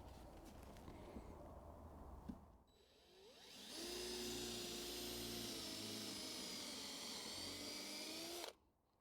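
A power drill drives a screw into a wooden doorpost while a baseboard is fixed on a fruit cage built from an old polytunnel frame, its whine rising then holding steady and loud for several seconds before cutting off abruptly, with faint birdsong outdoors.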